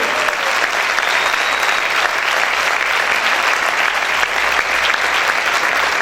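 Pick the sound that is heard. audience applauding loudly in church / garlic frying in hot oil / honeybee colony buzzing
audience applauding loudly in church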